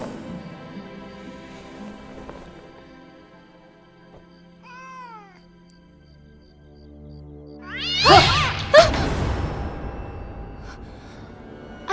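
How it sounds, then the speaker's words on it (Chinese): A wild cat that bites lets out a drawn-out meow, then a louder burst of snarling, yowling caterwaul near the end, close by and clear over a quiet indoor background, with no speech. "这怎么会有一只咬人的野猫啊"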